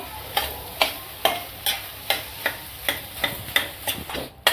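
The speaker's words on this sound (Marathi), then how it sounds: "हे चांगलं असं परतून घ्यायचं एकजीव करायचं" A potato and water chestnut flour mixture for fasting vada is sautéed and worked together in a pan: about ten evenly spaced scraping stirs over a soft sizzle, close and fairly quiet, with no talking.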